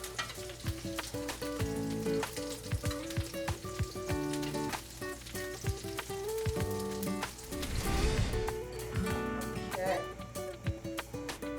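Meatballs fry in a pan for a meatballs-and-marinara recipe, sizzling steadily with crackles and pops, and scraping stir sounds as they are turned onto their sides.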